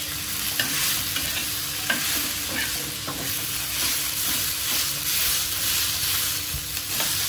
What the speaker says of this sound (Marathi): आता आम्ही इथे कांदा भाजतो।